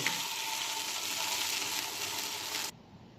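Okra (bhindi) frying in oil in a pan, a steady dense sizzle close by and loud, cutting off abruptly near the end to a quiet background.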